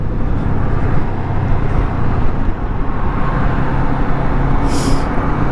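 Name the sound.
motorcycle engine pulling while riding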